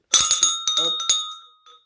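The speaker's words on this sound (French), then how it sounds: "C'était une petite cloche qui est vraiment pas mal." A small bell bought at an agricultural show rings in a quick series of close, bright strikes, then a lingering tone that fades out, with one faint tap at the end.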